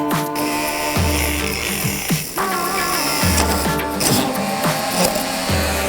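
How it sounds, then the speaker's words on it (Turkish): Saw made of paper cutting through wood, rapid rhythmic back-and-forth rasping strokes with repeated scraping bursts, close and loud. "Kağıttan testere, tahtayı bile."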